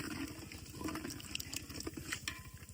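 Water being poured into a pot of boiled toor dal for Kathiyawadi dal dhokli makes a steady, close splashing and gurgling stream that runs without a break.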